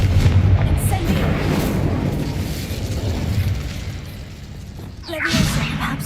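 Spell blasts from Confringo and Incendio cast in Hogwarts Legacy: a dense, continuous rumbling barrage of booming bursts, with a sharper fiery flare near the end.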